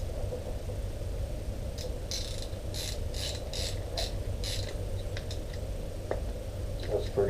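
A wrench ratchets while tightening a part on a WP AER 48 motorcycle fork during a rebuild: a quick run of faint clicks over steady hum, then a few scattered ticks.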